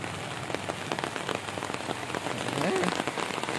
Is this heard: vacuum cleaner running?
no